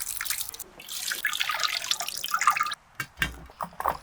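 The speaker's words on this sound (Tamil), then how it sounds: "கொஞ்சமாக தண்ணி ஊற்றிக்கலாம்." Water poured from a vessel onto grated coconut for a sweet banana dosa batter: a steady splashing pour of a few seconds, then a handful of separate drips and small splashes, close by with no talking.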